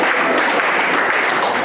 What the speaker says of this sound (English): Let's give a hand of clap for Father Murad.